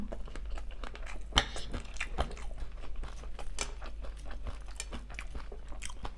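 Close-up crunchy chewing of Thai fermented pork sausage with kaffir lime leaves and shrimp, with repeated crisp bites and crackles in an irregular rhythm over a low background hum.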